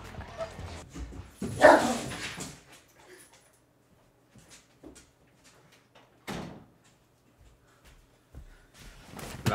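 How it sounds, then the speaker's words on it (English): A pet dog named Kaiser gives a loud bark burst indoors, then quieter scattered yips and thumps with a door-like knock, sounding close amid a mostly quiet room. "That was my dog."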